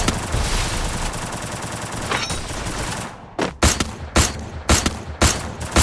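Gunfire in the Free Fire battle royale game during a solo-versus-squad ranked match: dense continuous shooting at first, then a string of loud, separate bursts, close and with no talk over them.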